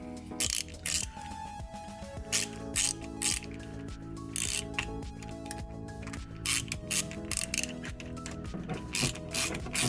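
A hand ratchet clicks rapidly in repeated bursts, close and crisp, as it tightens a battery terminal on a 1987 Honda Prelude Si, with no talking.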